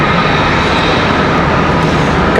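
An American Airlines jet departing Charlotte Douglas International bound for Grand Rapids, a loud, steady broadband engine roar filling the whole moment without any voices.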